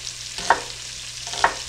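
Peppers frying in a skillet for sausages, peppers and onions: a low steady sizzle with two sharp spatula scrapes against the pan about a second apart, close and unaccompanied by speech.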